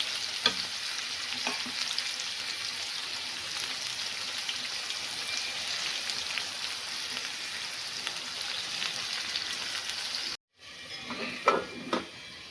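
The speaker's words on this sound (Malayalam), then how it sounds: "സോയ ചങ്ക്സ് ഇവിടെ ആയിക്കൊണ്ടിരിക്കുകയാണ് മക്കളെ" Soya chunks sizzle and fry steadily in a pan while lunch is cooked, a continuous hissing crackle that breaks off near the end, followed by a few clinks and stirring sounds.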